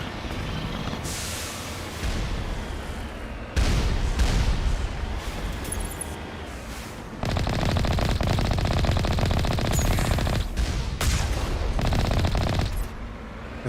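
Turrets firing in the Mass Effect game, sustained bursts of loud gunfire in several dense stretches with short breaks between, close and heavy, no talk.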